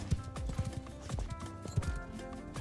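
Video game horses (Mount & Blade II: Bannerlord) clip-clop rapidly over soft ground as several gallop, a busy uneven drumming with a brief whinny mixed in.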